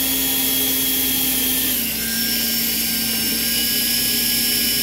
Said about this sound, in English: And I'm going to drill all my holes.